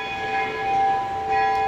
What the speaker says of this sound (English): I find the sound of church bells really